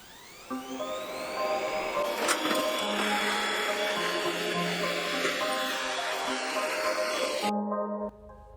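A robot vacuum cleaner starts up with a rising electronic tone, then settles into a steady whirring motor and brush hum in a family house, cutting off abruptly near the end.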